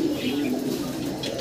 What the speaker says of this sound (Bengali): এই বেবিরে খাওয়াইতে আসছে এক জোড়া আর্চেঞ্জেল কবুতর